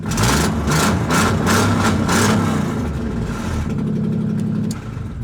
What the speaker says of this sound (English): Have a listen to my race car. Might need to fix the exhaust, I think.